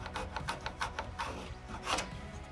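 Hand plane shaving a wood molding profile to match old trim, several short rasping swipes in quick succession, close and fairly quiet with no talk.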